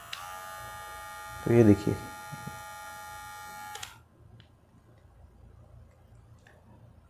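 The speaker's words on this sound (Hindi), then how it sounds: "तो ये सिंगल स्पीड, ट्रिमर हमारा चालू हो गया। अभी डबल स्पीड पे जाते हैं।" A Dingling electric hair trimmer runs at its higher speed with a steady bright buzz for about four seconds, someone talking over it briefly, then it switches off to quiet.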